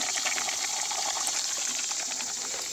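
Water pours steadily into a water filter jug, a soft continuous trickle and gush heard up close and fairly quiet.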